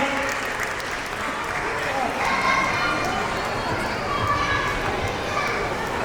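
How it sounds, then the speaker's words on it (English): An audience at a school annual day claps steadily for the grandparents, a dense continuous patter of many hands mixed with children's chatter and movement in a large hall. "A big round of applause for all the grandparents."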